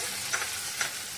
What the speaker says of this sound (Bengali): এটা ভালো করে ভাজা ভাজা হলে